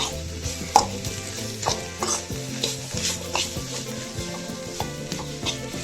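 Mashed potato masala for aloo paratha being mixed and fried in a pan: a spatula scrapes and stirs in repeated strokes over a soft, steady sizzle, with faint tonal music underneath.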